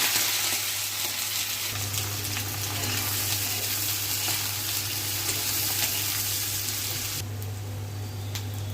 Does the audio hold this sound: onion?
yes